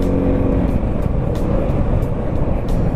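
A 2024 Yamaha XMAX 300cc scooter engine drones steadily while riding, a continuous loud motor hum with wind rush, no talking over it.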